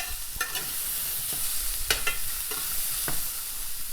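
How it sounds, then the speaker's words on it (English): Vegetables stirred in a hot frying pan make a steady sizzle, with several distinct scraping clacks as they are tossed. "You can just jump the vegetables around a little bit, give them a stir."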